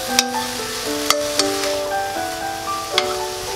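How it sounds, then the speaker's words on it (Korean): Royal tteokbokki with shiitake mushrooms stir-fries in a pan, a quiet sizzle with occasional sharp clicks of a utensil on the pan, all beneath soft sustained background music. "표고버섯까지 넣고 잘 볶아지고 있습니다."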